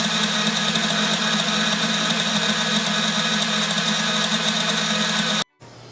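An electric mixer whirs steadily through cake batter, a close, even motor drone with a faint mechanical rattle that cuts off abruptly near the end, no voices.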